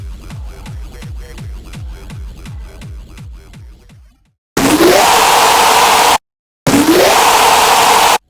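Serum 2 synth screech with moving distortion, tightened by multi-band compression: a pulsing bass pattern gives way to two loud, harsh, noisy screech bursts with sweeping tone, split by a short silent gap.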